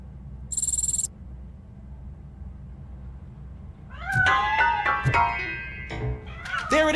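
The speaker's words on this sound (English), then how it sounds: "That cat must be hiding inside. Let me lure it out." A cat meows repeatedly in the video game RoboCop Rogue City, a series of close, clear mewing calls of varying pitch after a brief electronic chirp and a quiet lull.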